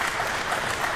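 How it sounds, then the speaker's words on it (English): Crowd applause at a junior pool championship match, a brief, even burst of clapping from an appreciative audience, steady and fairly close with no voices over it. "Appreciative crowd, and you got to love that."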